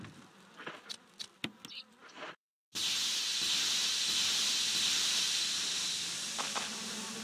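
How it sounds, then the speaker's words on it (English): Swarm of bees in the Resident Evil Remake game, a loud continuous hissing buzz that starts abruptly after a brief silence, following a few sharp thuds. "Lots of bees."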